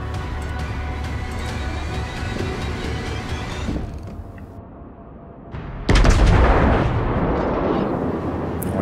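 Naval guns fire on a warship in the World of Warships naval battle game: heavy, continuous rumbling salvos and explosions, then a loud booming burst of incoming shells that stays intense to the end.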